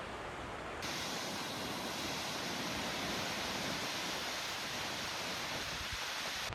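A roaring waterfall near Melbourne makes a broad, steady hiss that swells in after a moment and continues unbroken, with wind likely adding to the wash of noise.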